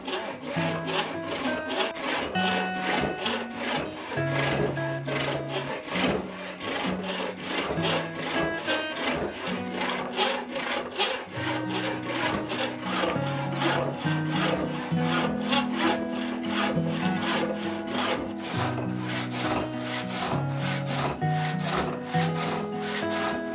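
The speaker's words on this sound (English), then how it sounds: "Here you can see how the saw is just sliding all the way through" A hand saw resawing a wooden board with steady, rhythmic rasping strokes, close and continuous, each push and pull cutting evenly through the wood with no voices.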